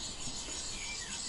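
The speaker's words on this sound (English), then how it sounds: "using the soaked whetstone, and you start, and you're going to work in a circular motion" An axe blade is rubbed in circles on a soaked whetstone, giving a continuous close, gritty scraping hiss with no pauses.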